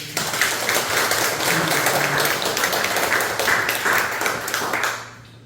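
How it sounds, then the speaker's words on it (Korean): A church congregation at a Sunday worship service applauds together in a dense, steady wash of clapping that holds for several seconds, then quickly dies away at the end, with no voices over it. "박수 한번 해주시죠."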